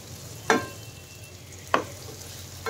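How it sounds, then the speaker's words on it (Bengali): Amla frying in oil in a nonstick pan, stirred with two sharp scraping strokes spaced about a second apart over a low, steady sizzle. "কিছুক্ষণ আমি এটাকে ভালো করে তেলের সাথে নাড়াচাড়া করে ভালো করে ভাজা ভাজা করে নিলাম"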